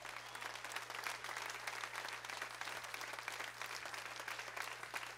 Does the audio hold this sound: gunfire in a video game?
no